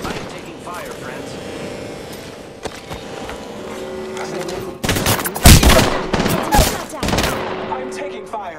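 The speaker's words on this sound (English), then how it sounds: "I am taking fire." Loud bursts of automatic gunfire hit in the video game Apex Legends, with rapid clusters of shots after a stretch of quieter ambient game sound. A voice speaks over the action.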